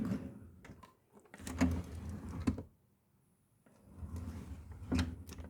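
A kitchen snack drawer slides open, with two distinct bursts of rolling and knocking a second apart, then a later burst of rattling. Close and moderately loud, no voices.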